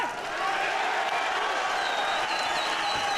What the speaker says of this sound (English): you hear the audience screaming?